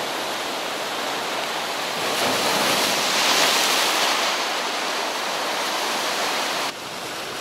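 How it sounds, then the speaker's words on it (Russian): Sea waves breaking on the shore at the Black Sea resort of Sveti Vlas, Bulgaria, a steady loud broadband roar of surf that swells in the middle and continues without speech. "Волны! Сегодня волны!"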